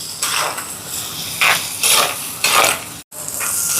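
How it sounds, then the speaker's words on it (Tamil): Shallots and onions sauté with fenugreek in sesame oil for a crab curry. A loud, close sizzle hisses throughout, broken by repeated scraping stirs of the spoon against the pan. "இப்போ பாருங்கள் வெங்காயம் நல்லா வதங்கி வருது."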